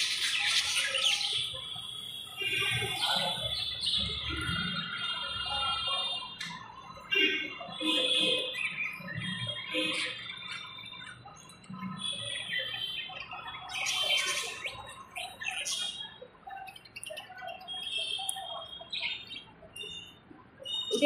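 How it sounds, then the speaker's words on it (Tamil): Lovebirds and cockatiels in a pet shop give repeated shrill squawks and chirps in scattered bursts, fairly close, with faint talk in the background. "இதில் எல்லாமே பேர்ட்ஸ் இருக்கு. லவ் பேர்ட்ஸ் முதல் கொண்டு எல்லாமே இருக்கு."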